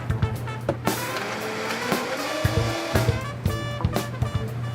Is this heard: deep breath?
no